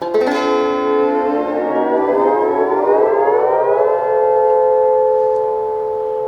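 A sustained, ringing lap steel guitar chord in C6 tuning with bright overtones, gliding smoothly upward in pitch and settling into a steady, shimmering tone, loud and close.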